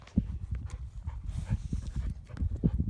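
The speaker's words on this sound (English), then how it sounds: "you have to be very gentle with baby donkeys" A baby donkey moving around on a farm, with a steady patter of soft hoof steps on the ground, close and continuous, and no talking.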